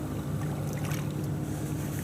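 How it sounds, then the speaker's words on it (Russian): Motorboats humming faintly in the distance on the Volga river at night, a soft, steady low drone with light wind and gentle water in the background. "Еще оставшиеся какие-то на воде катера немножко шумят."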